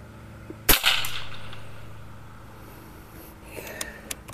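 A single sharp crack from an FX Liner Superior air rifle firing at high power, fired close by, followed by a short fading tail and a few quieter clicks and ticks, with no talk.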